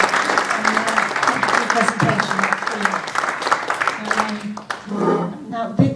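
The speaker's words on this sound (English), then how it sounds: "can we just give him another round of applause?" An event audience claps for a speaker at a property networking gathering, the clapping sustained and moderately loud, with a voice talking over it and the sound thinning out near the end.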